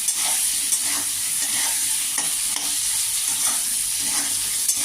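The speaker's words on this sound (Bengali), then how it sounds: "এবার আলুটা একটু লালচে লালচে হয়ে গেলে তারপর আমি মিক্স সব বস্তাগুলো দিয়ে দিলাম" Potatoes with salt and mixed spices frying in a pan, stirred continuously, giving a loud sizzle with repeated scraping strokes.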